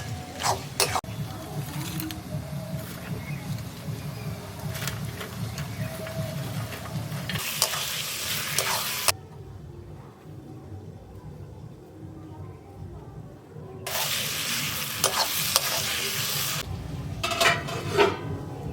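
Minced chicken keema sizzles as it is stirred into spices in a pan, with scraping of a spoon and bursts of frying, while someone talks over the cooking.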